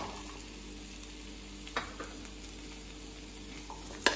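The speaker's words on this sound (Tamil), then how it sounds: "இதெல்லாம் சேர்த்து நல்லா மிக்ஸ் பண்ணிக்கலாம்." A spoon scrapes and clinks in a pan while chopped green chillies and boiled chickpeas are mixed into capsicum rice, a few sharp knocks over a quiet low sizzle, no talk.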